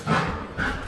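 A dog gives two quick, fairly close barks about half a second apart, with little else around them.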